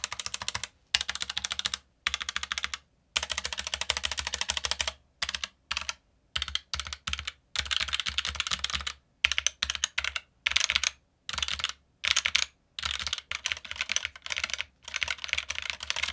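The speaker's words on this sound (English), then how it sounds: "when you go to a regular keycap on this board, you definitely have more of that full key clack sound right there" Fingers type on an RGB mechanical keyboard fitted with regular keycaps, giving a full, crisp clack in fast irregular bursts with short pauses between runs of keystrokes, close and clear.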